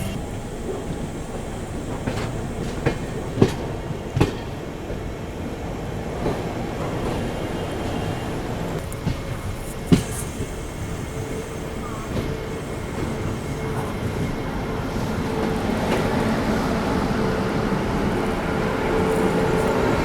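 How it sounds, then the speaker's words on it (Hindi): The Kashi Vishwanath Express rolls into Banaras railway station at the end of its run: a steady rumble of carriages with scattered sharp clanks, rhythmic wheel clacks and faint squealing, growing slightly louder toward the end, without talk. "निर्धारित समय से 10 मिनट बिफोर ही अपनी काशी विश्वनाथ एक्सप्रेस पहुंच चुकी है अपनी final destination Banaras railway station पर"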